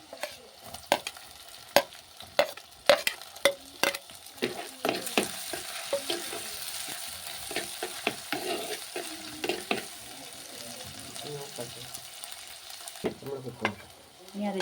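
Onions or aromatics for a Wayanad fish curry sautéing in a pan with frequent spoon stirring: a steady sizzle broken by a string of sharp scraping knocks early on, settling into continuous frying with occasional clinks.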